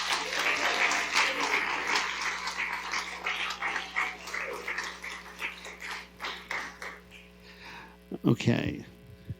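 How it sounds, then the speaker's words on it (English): An audience at a city commission meeting applauds the winners with sustained, moderately loud clapping over a low mains hum, fading out into a few voices at the end. "Give them another round of applause."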